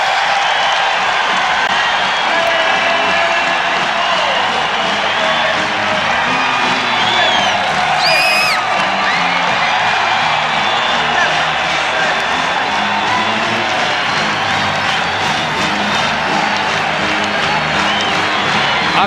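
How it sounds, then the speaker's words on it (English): Wrestling crowd at a 1994 Iowa versus Clarion dual meet cheering loudly and continuously, a dense roar of many voices with whoops and clapping sustained for nearly twenty seconds. "I'm telling you that the crowd is happy because they see an upset here at the end of this meet"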